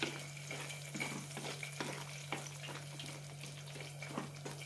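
A spoon stirs bottle gourd masala curry in a pan with scraping strokes over a soft, steady sizzle, close and fairly quiet, with no talking.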